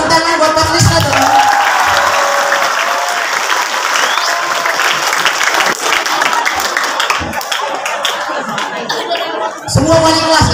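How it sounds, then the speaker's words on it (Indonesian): A large crowd at an Isra Mi'raj religious gathering claps loudly and steadily for about nine seconds, with chuckles and chatter mixed in, then a voice speaks as the clapping fades. "Tepuk tangan buat Pak Krisno dong."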